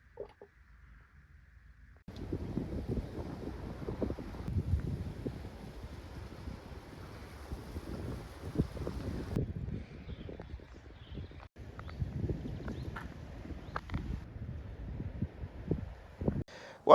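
Wind blows outdoors on a sunny day, buffeting the microphone in uneven low gusts that come and go over several seconds, with brief quiet gaps between the rushes.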